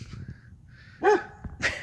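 A pet dog barks once sharply at close range, followed by a second shorter bark, over a quiet indoor room background with faint low rumble.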